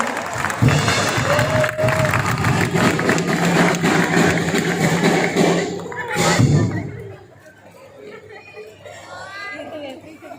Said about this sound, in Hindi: इन दोनों के लिए तालियां बजाओ।